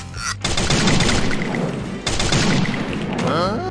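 Rapid bursts of Famas automatic fire in the shooting game Free Fire, two long loud volleys broken by a brief pause, with faint voices underneath.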